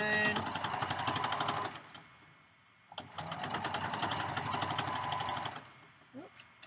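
A sewing machine stitches down a long strap on a reversible bag in two steady runs of rapid, rhythmic needle chatter, with a brief pause between them and faint handling sounds after.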